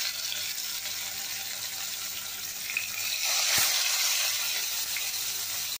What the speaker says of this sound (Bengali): মাখিয়ে এবার মাছটা ভেজে নেব।